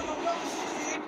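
A moving train gives off a steady, close, broadband rumble and roar, continuous and fairly loud for about a second with no pauses.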